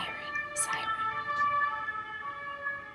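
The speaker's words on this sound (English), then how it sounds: "you hear the sirens all the time" An emergency siren wails at a distance in Paris, its steady tones held throughout, while a nearby voice talks briefly over it.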